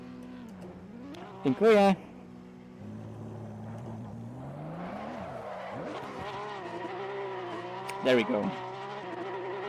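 A Porsche Cup race car does a burnout on tarmac in Assetto Corsa Competizione, its engine droning and revving while the tires squeal in two short bursts; someone speaks briefly over it.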